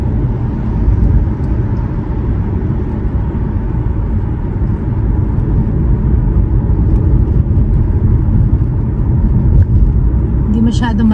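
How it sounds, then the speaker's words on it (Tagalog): A car driven through Las Vegas at night produces a steady, loud, low engine and road rumble inside the cabin, continuous and even throughout, with nothing else breaking through. "we're driving here in Vegas at nighttime."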